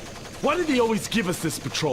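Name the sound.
constant gunfire in Splinter Cell: Pandora Tomorrow video game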